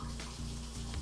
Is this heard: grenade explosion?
no